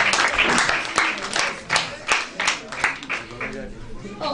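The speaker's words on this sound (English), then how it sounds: "Please let's give him a round of applause" A crowd at a scholar summit competition applauds a prize winner, scattered claps that thin into sparse, separate hand claps, with voices chattering beneath.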